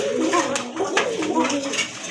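A male Koka pigeon coos in soft, repeated low notes close by, with faint background sounds around it.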